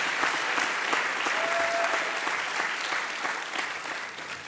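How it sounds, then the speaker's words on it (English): Sustained audience applause at a Class of 2024 master's graduation ceremony in international relations and diplomacy, a dense, steady wash of many hands clapping that continues throughout and fades slightly toward the end. "I think we need a round of applause for Ragnhild Drange"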